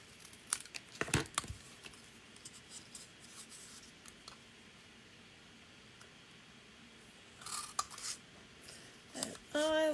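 Scissors snipping through paper during a stamping card craft, heard as quiet, scattered crisp snips and papery rustles, close by, with a louder burst of crinkling near the end.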